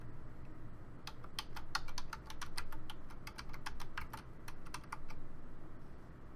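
Rapid clicking keystrokes on a computer keyboard come in quick uneven bursts over a low background hum, close and moderately quiet.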